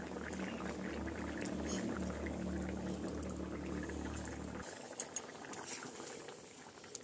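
A fish curry with mankochu taro and snakehead fish bubbles in a pot, a soft steady simmering gurgle that thins out partway through, followed by a few light clinks.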